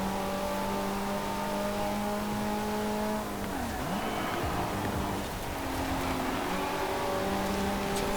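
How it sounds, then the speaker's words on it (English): An Alfa Romeo race car in Forza Horizon 4 accelerates with a steady, loud engine drone whose pitch climbs, briefly breaks around a gear change, then resumes rising; no voices are heard. "Alfa Romeo is definitely the fastest car in the straight line."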